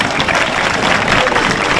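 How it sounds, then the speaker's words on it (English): Dense, steady applause from the audience at a junior livestock show fills the arena for a couple of seconds. The even wash of clapping holds at a constant level, with no single voice rising above it. "big round of applause"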